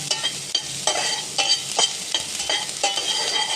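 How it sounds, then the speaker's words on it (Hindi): Chopped onion fries in a pan for a diet soup, a spatula stirring through it: steady sizzle broken by rhythmic scraping strokes about every half second, close up and clear. "अब इसे भी हम थोड़ा सा फ्राई कर लेंगे।"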